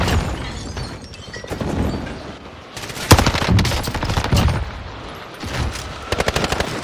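Enemy soldiers in a video game fire on the player, with bursts of automatic machine-gun fire and scattered gunshots crackling steadily and loudly throughout, sharpening into denser volleys toward the end.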